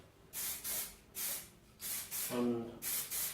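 Short bursts of aerosol spray paint applying a second coat to antique rim lock components, about seven hissing blasts in a steady stop-start rhythm, close and fairly loud.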